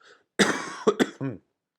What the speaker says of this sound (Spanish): Seguimos con tos.